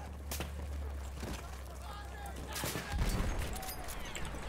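Battlefield 1 gunfire crackles in scattered shots and bursts, with a heavier rumbling volley midway, over a constant background din.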